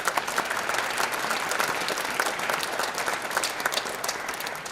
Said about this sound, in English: So please give those folks a round of applause.